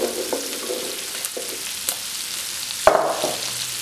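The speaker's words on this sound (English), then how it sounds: "And now we're gonna add the cauliflower so it can start softening up and getting all that garlic buttery goodness taste in it as well." Cauliflower sautéing with ham and garlic in butter crackles in a pan for a cauliflower au gratin, with light scrapes early on and a sharper clatter near the end, all close by with no voices.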